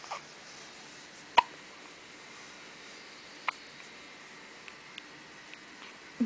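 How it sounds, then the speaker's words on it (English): A baby hiccups repeatedly, short sharp catches spaced a second or two apart, close and fairly soft over quiet room noise. "Got the hiccups."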